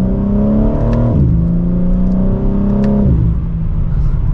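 A 2024 BMW M4 Competition in Sport Plus mode, held in second gear, revs hard as it accelerates: a loud, close engine and exhaust roar that climbs in pitch, dips briefly, then climbs again, with no talking.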